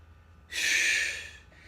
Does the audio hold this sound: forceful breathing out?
yes